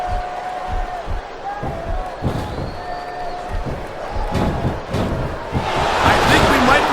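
Video game wrestling arena crowd in WWE Smackdown vs RAW 2007, a match between Candice Michelle and Trish Stratus, roaring and cheering under commentators' voices, with scattered slams and the crowd noise swelling louder toward the end.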